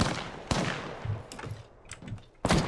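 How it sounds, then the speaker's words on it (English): Gunfire in an Apex Legends match, several sharp broadband bursts landing at irregular moments amid a low rumbling game ambience, fairly close and loud. "Yeah, I'm getting shot at."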